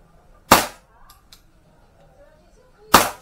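Two sharp, loud pistol shots from a 1996 Beretta 92 FS fired at a target, spaced about two and a half seconds apart, with faint clicks and quiet background between them.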